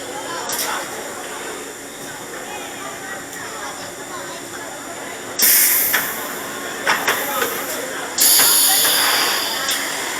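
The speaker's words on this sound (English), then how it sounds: "As soon as this train comes to a full stop, you guys can exit out to the right." Rumbling roller coaster train noise with sudden loud bursts of hissing air as brakes release while stopping, close by, with some faint voices underneath.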